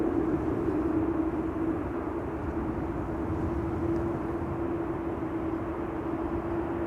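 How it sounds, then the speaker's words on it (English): KLM Embraer 175 airliner arriving at Amsterdam Schiphol, a steady loud engine roar with a sustained droning hum, continuous and close throughout with no talking. "So this is KLM flight 1830 arriving from Stuttgart. It's an Embraer 175"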